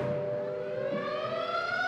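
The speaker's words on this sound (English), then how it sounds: "the banshee wail of the siren echoes the warning" A loud civil defense air raid siren from 1957 wails steadily, its tone sliding slowly upward with a rich harmonic drone.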